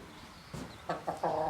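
A rescue hen on a French smallholding gives a few short, close clucks in quick succession, the last one longer and louder, with no talk over them.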